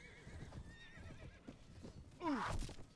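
A horse whinnies loudly in the Mount & Blade video game, a sharp descending neigh near the end after a stretch of softer battlefield noise and faint hoof clatter.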